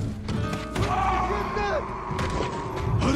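Booming cannon shots and heavy thuds amid busy game sound effects in Ghost of Tsushima, with a voice shouting partway through.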